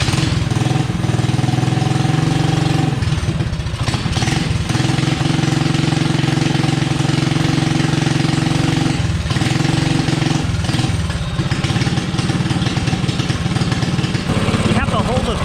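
A small mini bike engine that will not idle runs loud and rough, sputtering and surging unevenly as it struggles to keep running, with brief dips in its rattling drone.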